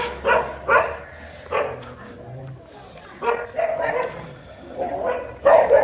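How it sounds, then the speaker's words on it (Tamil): Several dogs bark in loud, repeated bursts near a residential street of bungalow houses in Uttan, with quieter yips between the outbursts. "நாய்களுக்கு அட்டகாசமும் கொஞ்சம் ஜாஸ்தியாக இருக்குது"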